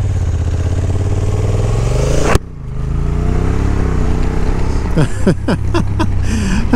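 A 2023 Honda NT1100 DCT sport tourer motorcycle pulling away, engine rumbling close by and rising in pitch through the automatic gear changes, with a brief dip partway and wind noise building.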